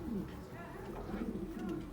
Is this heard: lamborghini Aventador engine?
no